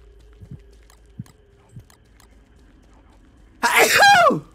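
A single loud, close sneeze bursts out near the end after a few quiet soft knocks, with no talk over it.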